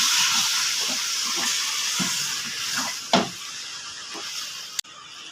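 Chicken spare parts sizzling with spices in a pan over low heat, a loud continuous hiss broken by scraping stirs and one sharp clack near the end, no talking.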